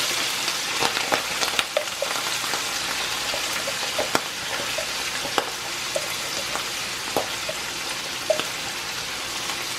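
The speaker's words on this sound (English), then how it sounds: "We're just going to fry this just a little bit." Mushrooms and onions frying in a pan, a steady broadband sizzle with scattered crackles and pops running throughout at moderate level, no talking.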